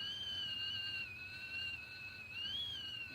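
A kettle whistles steadily while boiling water for spruce needle tea, a high, sustained tone that wavers slightly in pitch, over a low background rumble.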